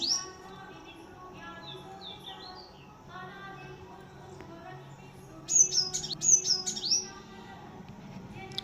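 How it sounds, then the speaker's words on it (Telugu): House sparrows chirp noisily near a home doorway during a household puja, scattered tweets at first building into a louder burst of overlapping chirps toward the end. "పిచ్చుకలు చూడండి ఎలా గోల్ చేస్తున్నాయో"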